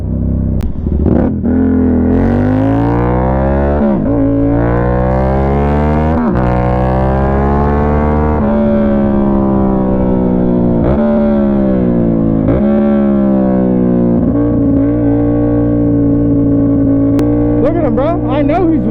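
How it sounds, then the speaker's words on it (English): Loud Yamaha MT-07 motorcycle engine revving repeatedly, with rising and falling pitch across several throttle pulls, close and continuous, while someone talks over it. "I got a loud ass bike"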